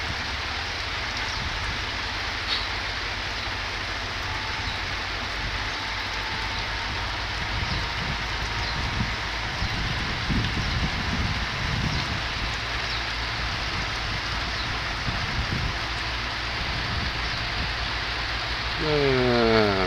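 Steady heavy rain pours down over a rice paddy across the whole stretch, a dense broadband hiss with low rumbling beneath and no speech.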